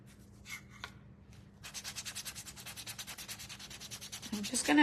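Sandpaper is rubbed by hand over a wooden spindle birdhouse base, with a few scattered scrapes followed by a quick, steady run of close back-and-forth strokes that grows louder toward the end.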